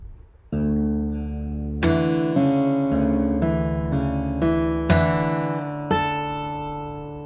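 Acoustic guitar playing the second bar of a piece, percussive tap strums and hammer-ons ringing out in several distinct attacks with sustained chiming notes, close and clear with no talking.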